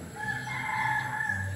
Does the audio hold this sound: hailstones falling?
no